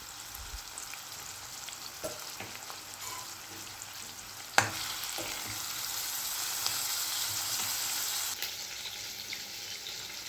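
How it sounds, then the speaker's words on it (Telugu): Chopped onions and green chillies with salt frying slowly on low heat, a soft, steady sizzle with occasional spoon taps and one sharp clack, growing slightly louder toward the end. "పచ్చిమిర్చి సన్నగా తరిగిన ఉల్లిపాయలు వేసేసి కొద్దిగా సాల్ట్ వేసి సిమ్లో ఉంచుకొని మెల్లగా నిదానంగా వేయించుకోవాలి"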